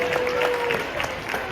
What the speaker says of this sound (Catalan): pugem ja un fort aplaudiment per a ells